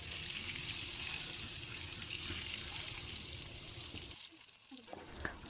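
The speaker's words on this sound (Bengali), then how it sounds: "লাল লাল করে উল্টে পাল্টে ভেজে নেব।" Pangas fish frying in oil while being turned, a continuous close hissing sizzle with light scraping touches, easing slightly near the end.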